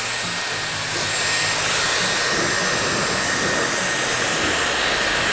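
Dyson Airwrap blow-drying damp hair, a steady loud airy whoosh of the dryer that switches up to full power after about a second and then runs evenly, close and with no voices.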